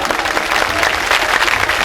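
Crowd applause at a mela gathering for Baba Baghi Shah, a steady dense clapping from many hands filling the whole stretch, loud and close with no break.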